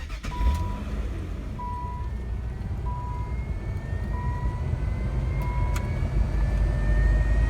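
An aftermarket blower motor whines inside a 2001 Nissan Maxima, a thin tone rising slowly in pitch over a steady fan rush, with a few short, even electronic beeps near the start. No one speaks.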